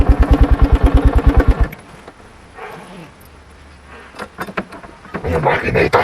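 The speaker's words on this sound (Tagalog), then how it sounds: "Ayan makina ito." A motorcycle engine idles with a steady, fast throbbing pulse at first, then quieter rumbling and clatter follow with voices in the background.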